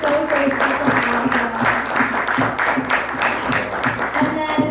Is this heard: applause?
yes